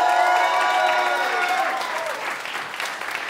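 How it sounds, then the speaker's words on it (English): An audience at a disability arts festival event applauds a song, giving steady, loud clapping that slowly thins as it goes on, with a fading musical tone at the start. "I think Ruthie deserves an extra round of applause for that song."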